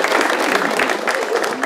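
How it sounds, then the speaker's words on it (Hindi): Sustained audience applause fills a stand-up comedy show, dense steady clapping from a crowd held at an even, loud level throughout. "ताली बजाइए भाई इनके लिए"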